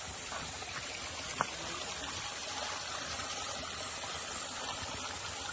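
Water from a waterfall stream near a cave flows in a steady, even rush, moderately distant and constant throughout, with one faint click partway.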